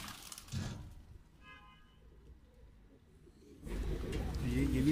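A high flyer pigeon of a golden breed coos faintly in short low bursts, with handling noises and background rustle around it.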